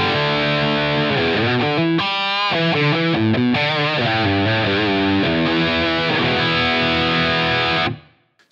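A loud electric guitar through a Line 6 Helix set for a Boss HM2-style Swedish chainsaw tone plays sustained chords and a short riff, saturated and gritty, then cuts off abruptly near the end.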